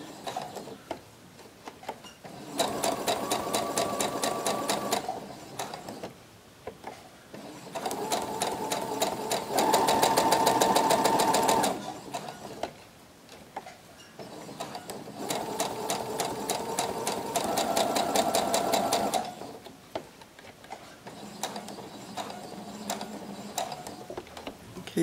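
Sewing machine with an applique foot stitching applique fabric along a traced line, running in four steady bursts of rapid mechanical whirring and clatter separated by short pauses, close and clear with little talk.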